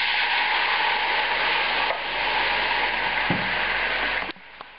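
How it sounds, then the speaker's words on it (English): A pan of sizzling shallots and rutabaga fries steadily and loudly, with a brief dip in the hiss as porter ale is poured in. A soft clatter follows near the end, and then the sizzle cuts off and goes quiet. "Now I'm going to add that porter."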